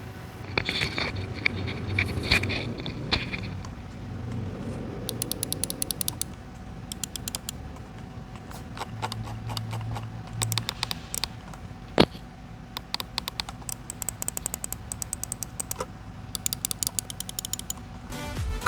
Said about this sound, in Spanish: el G403 tiene un clic un poco más notorio y fuerte